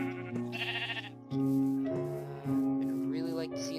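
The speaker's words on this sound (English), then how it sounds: "And I hear some sheep over there." Sheep bleating in the Minecraft FTB modpack, several bleats in a row, moderately loud and clear, with game ambience and some talk around them.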